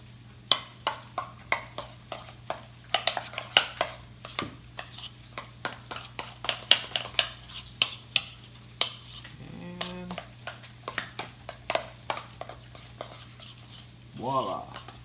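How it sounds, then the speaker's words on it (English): A spoon stirs cheese lasagna filling in a pot, producing a steady series of sharp scraping clicks and soft squelches, close and moderately quiet, with a brief voice near the end. "we're just stirring this to combine all the ingredients"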